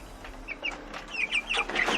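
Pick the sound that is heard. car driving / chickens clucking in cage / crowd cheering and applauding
chickens clucking in cage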